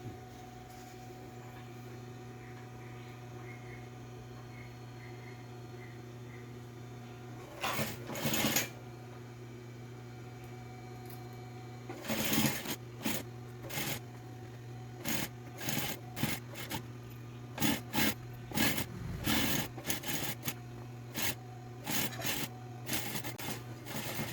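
A sewing machine stitching a multipurpose pencil case, a steady low motor hum with bursts of rapid mechanical needle clatter that start and stop repeatedly, close and clear.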